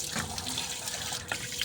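Water runs from a tap into a container during a morning routine at home, a steady close splashing and rushing stream with no voices.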